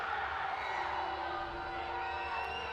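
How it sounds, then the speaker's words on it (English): A soccer crowd and team bench at an Indy Eleven women's league match grumble and shout in displeasure after a referee's whistle, a steady, fairly distant wash of voices with no single call standing out. "You can hear from the Indy 11 crowd and the Indy 11 bench not happy about why a whistle was given there"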